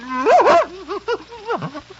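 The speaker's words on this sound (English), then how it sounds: "here he is, Mr. Montague. The Airedale that's going to work with you" An Airedale dog gives a few short, close whimpering yips and barks in uneven bursts, with no talk over them.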